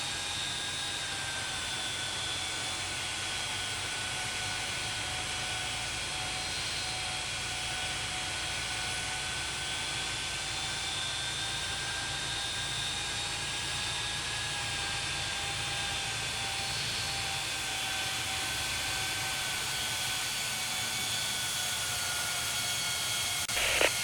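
Delta airliner jet taxiing at Salt Lake City in the game Tower Simulator 3: a steady, continuous engine whine with sustained tonal hum and broadband rush, unchanging and moderately loud for the whole stretch, with no talk.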